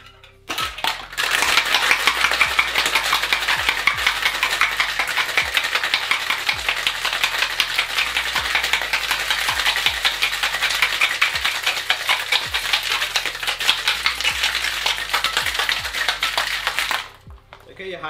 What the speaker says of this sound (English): Give it a good hard shake, 8 to 10 seconds